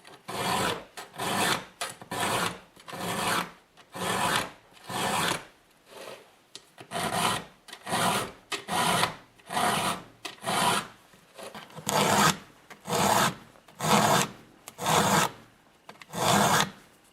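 A hand file sharpens a chainsaw chain in steady rhythmic rasping strokes, about twenty close, loud back-and-forth passes with short gaps between them and no talk.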